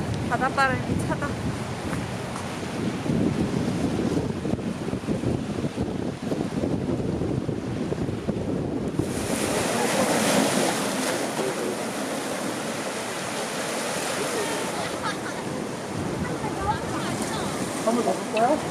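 Cold sea wind buffets the microphone with steady rushing waves at Hamdeok beach on Jeju, loud and continuous throughout, with a brief shift in tone midway; voices are heard talking.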